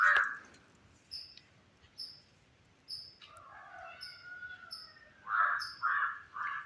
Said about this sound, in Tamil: காக்காவும் காக்காவுக்கும் சண்டை